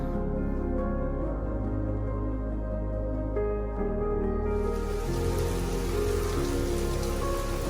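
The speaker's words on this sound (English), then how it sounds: "Another rainy June afternoon." Steady rain falls on a June afternoon, a continuous dense patter on surfaces that stays loud and even throughout, with no voices.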